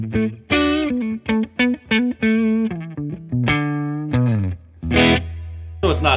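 Electric guitar played through a Bad Cat Black Cat 30 amp with spring reverb, a sequence of distinct plucked notes and short phrases, loud and close, with a slight reverb tail and no talking.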